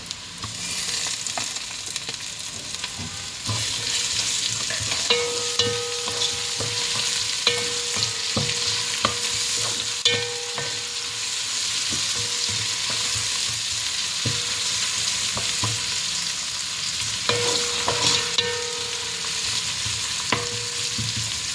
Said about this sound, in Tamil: கொஞ்சம் இஞ்சி கொஞ்சம் வதங்கட்டும்.